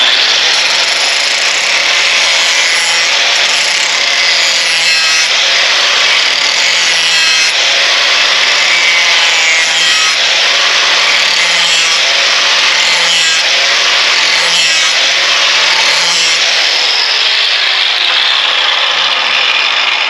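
A lawn mower blade clamped in a vise is filed flat by hand, a loud continuous rasping scrape in a steady back-and-forth rhythm of repeated strokes, close and uninterrupted throughout.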